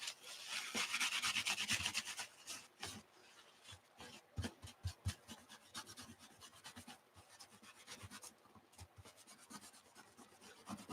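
Gunk is rubbed and scrubbed off an object close up with scratchy, rasping strokes, heavy at first and then in irregular short bursts with light taps.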